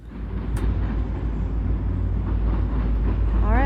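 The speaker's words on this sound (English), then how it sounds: "we have a passenger train going by" A passenger train rolls past at a railroad swing bridge on the Trent-Severn Waterway, a steady, loud, close rumble of wheels and cars that holds for the whole stretch with no voices.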